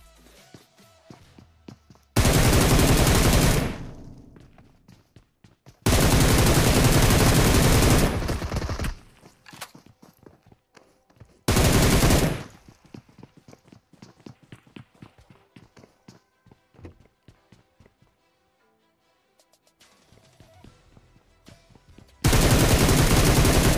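Bursts of rapid automatic gunfire from Battlegrounds Mobile India on a military base map come in four loud, dense volleys separated by quieter stretches with faint footsteps.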